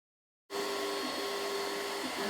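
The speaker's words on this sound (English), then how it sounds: "And now the machine does a second pass over the words." A laser engraver makes a second pass over engraved words, running as a steady, close, whirring hum with a faint repeating tonal whine from its fan and motion.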